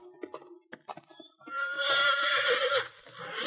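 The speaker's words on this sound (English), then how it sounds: "Nice-looking horse you got there." A horse whinnies loudly and at length as a radio drama sound effect in a Lone Ranger western setting, following a few short knocks and hoof-like clops, with no talk over it.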